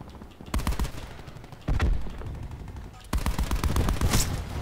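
Gunfire in Call of Duty: Black Ops 4, with three close, loud bursts of rapid automatic shots separated by short pauses.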